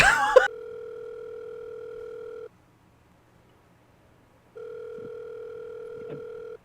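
Telephone ringback tone while a call goes unanswered: a steady two-tone purr lasting about two seconds, a gap of silence, then a second ring, after a brief burst of noise at the start.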